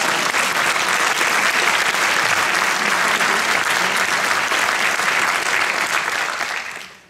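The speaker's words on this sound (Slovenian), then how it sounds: "Spoštovano občinstvo, lahko zaploskate." Loud, sustained applause from a concert audience at a symphony orchestra performance fills the hall for about seven seconds, dense and steady before tapering off at the end.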